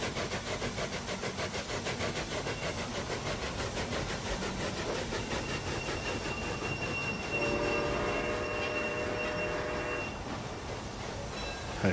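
A freight train in the railway building game Railway Empire rolls in at a station, its steady rumbling wheel clatter joined near the end by a sustained metallic squeal, fairly loud and continuous with no talk.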